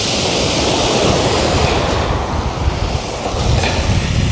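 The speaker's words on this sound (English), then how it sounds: "it's quite windy as well" Steady, loud wind rushes across the microphone at the seaside at Milford on Sea, with surf roaring continuously underneath.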